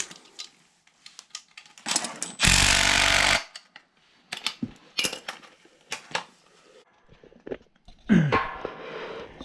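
A power tool drives a screw on a furnace blower motor during a blower and inducer replacement, with one loud sustained buzzing burst of about a second, a shorter burst near the end, and close clinks and taps of metal parts in between.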